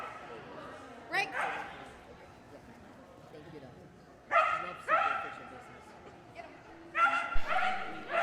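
A poodle named Spencer, competing at a dog trial, lets out several sharp yips and barks in clusters, some close and loud, over background voices and crowd noise.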